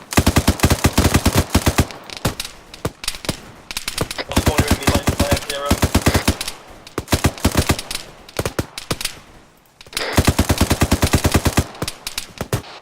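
Sustained automatic gunfire in the ArmA 3 military simulation game, dense rapid rattling bursts with short pauses, loud and close, while players talk over radio between volleys.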